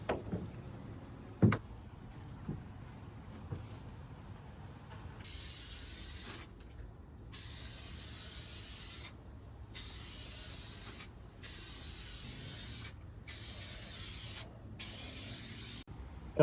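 Spray gun laying a light first coat of rust-proofing on a Land Rover in a workshop, a run of loud hissing bursts of several seconds each with short gaps, after a few quiet clicks and knocks.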